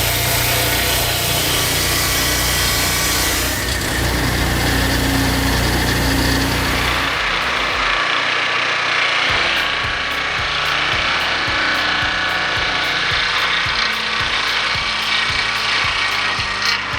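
A machine sawmill cutting timber into lumber: a loud, continuous mechanical roar and whine, with a change partway through into a lower drone and a regular ratcheting, clanking rhythm of gears and feed mechanisms.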